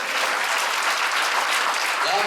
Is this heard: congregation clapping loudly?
yes